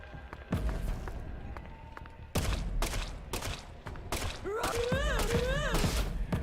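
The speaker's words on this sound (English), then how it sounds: "a weird sound effect going on. Like explosion sound effects going nuts." Explosion sound effects in the Deadly Premonition 2 video game burst out in a rapid, chaotic string of loud booms and thuds. Some squealing, pitched sounds are mixed in and rise near the end.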